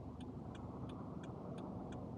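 A car drives along Barbican Avenue in Kingston, Jamaica, a low road rumble under a steady cabin hum, with faint ticking clicks about every third of a second, like an indicator.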